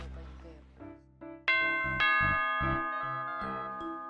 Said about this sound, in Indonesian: Bel bunyi tuh!